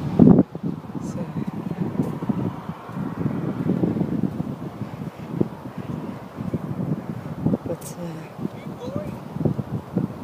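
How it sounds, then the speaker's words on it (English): Gusty wind at a beach buffets the microphone with rumbling low-end bursts that rise and fall throughout, while people talk over it. "It's so windy."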